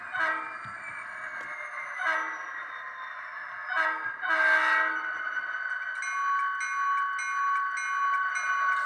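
A ScaleTrains SD40-2 model locomotive in DM&E livery with sound pulls away, its steady diesel drone layered with horn-like tones and brief rising bursts, constant and fairly loud with no talking.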